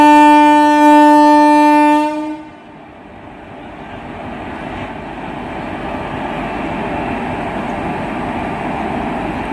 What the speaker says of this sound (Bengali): কাশিমবাজার রেল স্টেশনের 2 নম্বর প্ল্যাটফর্ম থেকে Lalgola Kolkata Hazarduari express Murshidabad junction rail স্টেশনের ব্লকের জন্য কাশিমবাজার থেকে শর্ট টার্মিনেট ছেড়ে যাচ্ছে